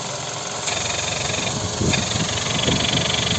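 A 2008 Skoda Roomster Scout with a 1.6 MPI petrol/LPG engine and automatic gearbox idles steadily with a low, even rumble and light mechanical ticking, close by, with no voices.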